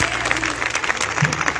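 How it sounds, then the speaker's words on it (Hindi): Applause breaks out from an audience at a poetry recitation gathering on the Ramlila ground in Chhatarpur, a short burst of clapping with a voice and hum beneath it. "बजा ताली यार, एक के साथ एक"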